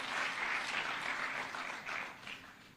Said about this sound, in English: Can give him a clap as he's coming.